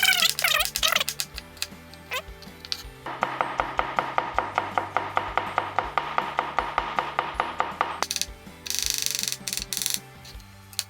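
A knife slices potatoes on a cutting board for a Korean pancake, making a fast, even run of close, crisp chops, with brief pauses between bursts.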